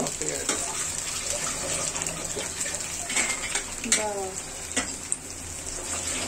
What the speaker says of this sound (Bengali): আমি একটু থালাটা ধুয়ে নিচ্ছি